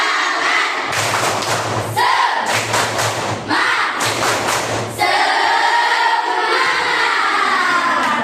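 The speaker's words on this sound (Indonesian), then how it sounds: "mari kita bernyanyi bersama-sama dengan tepuk semangat" A group performs the rhythmic tepuk semangat clapping chant, loud bursts of synchronized claps in a patterned beat with voices chanting together between the clap groups.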